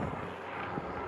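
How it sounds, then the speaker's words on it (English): Wind blows outdoors on Governors Island in New York City late in the day, a continuous broadband rush buffeting the microphone at a steady level throughout. "it's getting windy out here as the sun gets lower."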